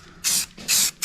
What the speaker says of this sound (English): Let's hit it up with some of this Rust-Oleum here